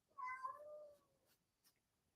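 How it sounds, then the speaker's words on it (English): A house cat gives a single clear, drawn-out meow, falling in pitch, followed by a couple of faint small noises in a quiet room. "Did you hear my cat?"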